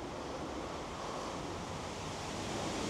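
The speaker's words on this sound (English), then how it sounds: "It's a very windy day" Wind blows on a very windy day outdoors at a beehive during honey frame extraction, a steady, fairly quiet broadband rush buffeting the microphone with no voices.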